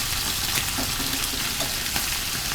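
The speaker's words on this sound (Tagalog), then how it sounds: "pag medyo brown na yung bawang, saka mo na lagay ang corned beef" Garlic and corned beef fry in a pan with a steady, close, dense sizzle throughout, no voices.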